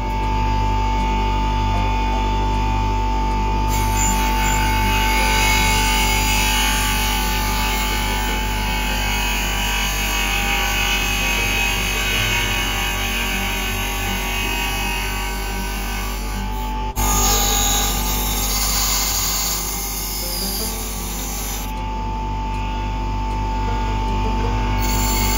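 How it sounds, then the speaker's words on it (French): An angle grinder shapes a rosewood screwdriver made for a woodworking plane, giving a loud, continuous droning whine with a steady hum underneath for the whole stretch and a brief change in tone partway through. "Je vais le faire à la meuleuse"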